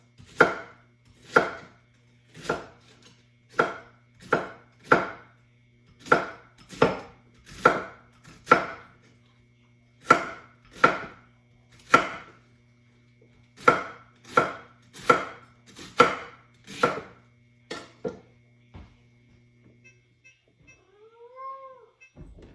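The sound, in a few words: chopping food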